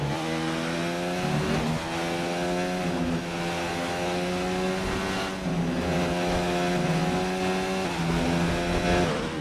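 An F1 2019 race car in the video game accelerates hard out of a technical double-right corner, its engine note climbing steadily through the gears with brief shift dips, loud and continuous throughout.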